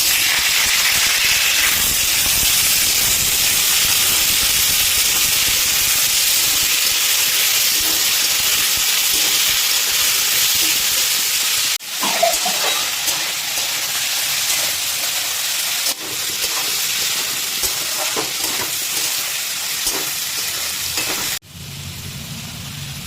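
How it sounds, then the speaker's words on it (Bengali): Cut potatoes hit smoking-hot oil and fry with a loud, steady sizzling hiss, easing down in two abrupt steps as the frying continues; a small-fish chorchori is being cooked. "এই সময়তে আমরা দিয়ে দেবো এতে কেটে রাখা আলু।"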